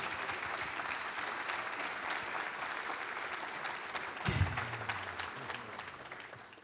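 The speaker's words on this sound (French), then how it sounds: "Et on peut les applaudir forcément." Audience at a Carré des Jardiniers garden award ceremony applauding, a dense continuous wash of clapping from a sizable crowd that carries on with a low thump partway through.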